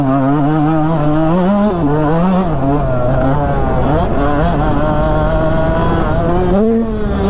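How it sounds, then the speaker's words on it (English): A Yamaha YZ125X two-stroke dirt bike engine revs hard and climbs quickly in pitch, then drops and rises again, loud and close throughout as the bike is ridden. "Oh my gosh, it revs up fast."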